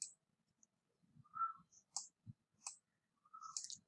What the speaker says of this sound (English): You can click and drag with left mouse button.